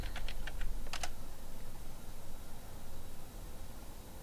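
A short burst of keystrokes as a search term is typed on a computer keyboard, a handful of quick clicks in the first second over steady background hiss, then quiet room noise with no speech.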